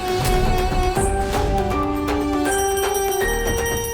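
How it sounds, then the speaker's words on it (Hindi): A prayer bell rung at a household worship, bright, ringing metallic tones struck repeatedly and overlapping, loud and close with long sustained resonance. "बाबा जी घंटी बजा रहे"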